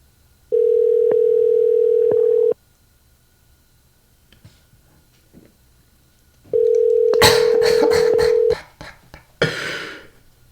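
A telephone dial tone plays twice in two-second bursts, the second followed by a quick run of touch-tone dialing beeps, loud and close with quiet gaps between.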